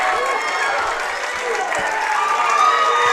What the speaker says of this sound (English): Let the Squirrel fans cheer.